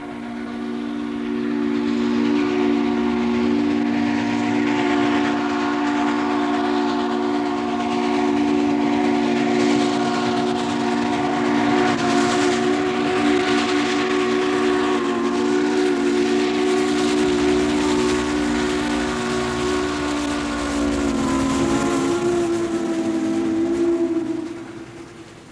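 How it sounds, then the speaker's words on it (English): A steam train backs up on an excursion run, its whistle sounding long and loud over a steady rumble of wheels and steam for nearly the whole stretch, fading near the end. "The train backs up, cameras are ready."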